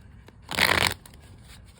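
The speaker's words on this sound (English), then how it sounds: "Let's get you shuffling, and we'll put your energy a little bit more into the cards here." A deck of tarot cards is shuffled in one quick, close riffle lasting about half a second. Quiet room tone surrounds the shuffle.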